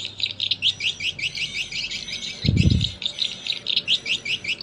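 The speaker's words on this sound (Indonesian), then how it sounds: "Jadi kedua suara ini termasuk suara pemikat walet muda" Recorded swiftlet lure call of the evening-pull type played back: rapid repeated high chirping twitters in steady bursts throughout, with a brief low thump midway.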